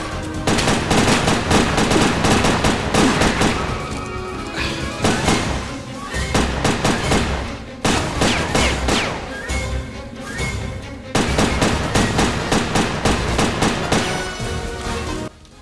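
Heavy gunfire in the game Headhunter: loud rapid bursts of shots in several long volleys separated by brief lulls, sharp and close, with crashing impacts mixed in.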